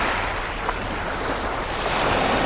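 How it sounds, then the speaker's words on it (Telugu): Sea waves wash steadily onto the beach at Rameshwaram at sunrise, a continuous broad roar of surf with some wind noise and no voices. "సముద్రం సౌండ్ కూడా చాలా పీస్ఫుల్గా ఉన్నది."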